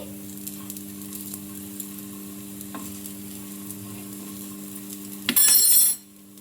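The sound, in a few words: peanut snack frying in a pan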